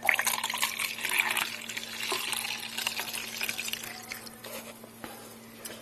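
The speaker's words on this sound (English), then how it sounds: "Now we pour the water." Water is poured into the reservoir of a Hamilton Beach The Scoop single-serve coffee maker, a close, soft splashing trickle that starts strong and gradually tapers off over several seconds.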